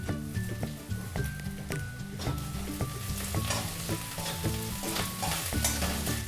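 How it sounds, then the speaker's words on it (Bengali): Chopped onions and green chillies sizzle in a pan as they are stirred, a constant frying crackle under steady melodic background music. "পেঁয়াজ, কাঁচা লঙ্কা কোচানো। 2 মিনিট নেড়ে নেব।"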